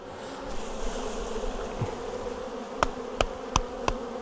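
Honeybees droning around a hive frame being worked, a steady close hum with a few sharp knocks or taps toward the end and no talking.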